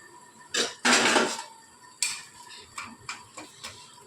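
Metal clanks and rattles as a lid is set on a pot of chicken masala, one loud clatter followed by several lighter ticks and taps of metal, close and alone.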